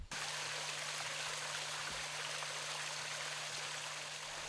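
A small mountain water source in a Meghalaya forest trickles and burbles steadily, close and fairly quiet, with a faint continuous low hum underneath and no voices.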